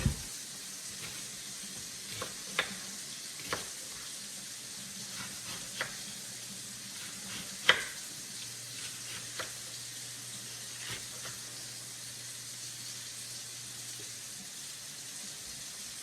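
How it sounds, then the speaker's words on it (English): Onions, ginger, garlic and cabbage sizzle softly in butter in a pan, a steady low hiss broken by scattered light clicks and taps of stirring. "I'll add my onions first, and then the ginger and garlic. I also want to start cooking up my cabbage as well"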